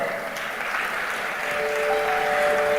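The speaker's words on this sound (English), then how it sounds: "with a huge round of applause." Steady applause from a large audience at the BioAsia 2024 inauguration at HICC, Hyderabad, sustained evenly throughout with a faint tonal ping near the end.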